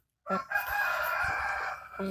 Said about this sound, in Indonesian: ini adalah ayam kampung pada umumnya